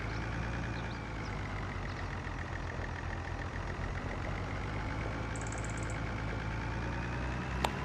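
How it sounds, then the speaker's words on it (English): A tractor engine in Farming Simulator 25 runs steadily at a low idle, a constant rumbling drone with a faint whine above it, moderately close and without talk. "Try and move it to somewhere better with the tractor."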